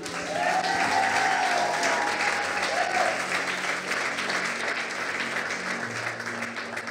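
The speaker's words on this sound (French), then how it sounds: "Est-ce qu'on peut acclamer la parole de Dieu?" Sustained applause from a church congregation, dense and loud throughout, with a few faint voices and a tonal note in the background.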